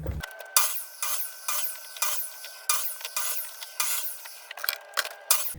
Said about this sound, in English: It's just a saw or way of cutting this PVC.